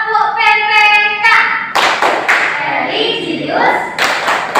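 A classroom of students performs the rhythmic tepuk PPK clapping chant together, with loud group claps and chanting voices after a brief spoken prompt.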